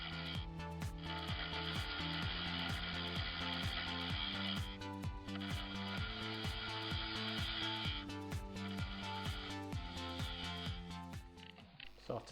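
A wood lathe turns a tenon for a spindled side gate, giving a steady rhythmic whirring and chattering hum with regular pulses from the spinning workpiece, continuous and close throughout, with no speech.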